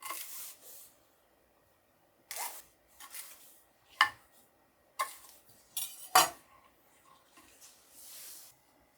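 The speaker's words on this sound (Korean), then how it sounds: "대파는 한 5cm 길이로 먼저 썰어줍니다." A knife cuts a green onion into roughly 5 cm lengths on a cutting board, giving several separate sharp chops and knocks with quiet pauses between them.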